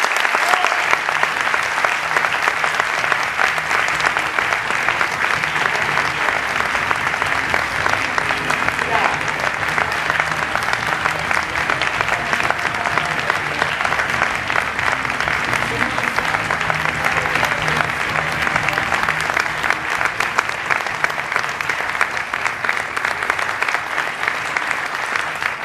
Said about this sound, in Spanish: Rebem amb un fortíssim aplaudiment a Gabriel Rufián.